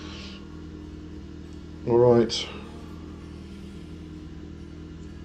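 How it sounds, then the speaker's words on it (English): A car engine idles steadily outside, a low continuous rumble running under the scene while a person briefly speaks in the middle. "sorry if you can hear the car outside"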